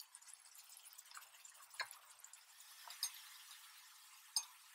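Chopped onions and carrots frying in a pan with salt, giving a faint, steady sizzle with occasional soft clinks and stirring ticks, quiet and alone without talk.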